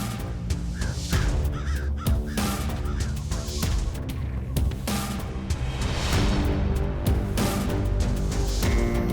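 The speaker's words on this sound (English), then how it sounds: "A white-headed eagle rushes to claim food with its fellows." White-headed eagles squabble over food, loud harsh repeated calls and squawks overlapping in a noisy, rhythmic scramble, close and continuous for several seconds with no talking.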